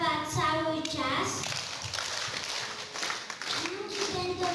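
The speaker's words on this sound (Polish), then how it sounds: "Bijcie brawa cały czas." A crowd at a Grandparents' Day celebration claps in a scattered, moderate patter, partly under children's voices and a sung or spoken announcement.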